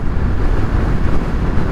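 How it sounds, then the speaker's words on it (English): Heavy, rumbling wind buffeting a microphone while riding a Triumph Speed Triple 1200RR motorcycle, a loud continuous low roar with no distinct engine notes or speech. "And I'm getting wind right now."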